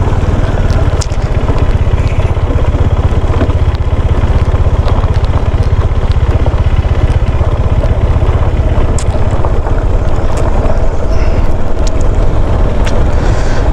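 A motorbike rides along a mountain road toward Lachung, its engine a steady, loud drone with continuous wind rush and no talking throughout.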